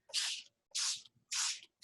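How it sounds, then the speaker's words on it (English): Three quick bursts from a hand spritzer misting water lightly onto paper for paste paper, each spray a short airy hiss, close and clear, separated by brief pauses. "I'm just using a spritzer with this"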